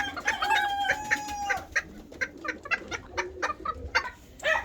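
Malaysian Serama bantam chickens and roosters cluck in quick, close bursts, with a crow near the start, fairly quiet and with no voices.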